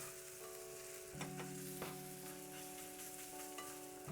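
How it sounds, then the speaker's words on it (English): Garlic sizzles steadily in a hot pan while being stirred, with soft scraping strokes and occasional sharp clicks of a utensil against the pan, heard alone without talk. "we're slightly frying up the garlic"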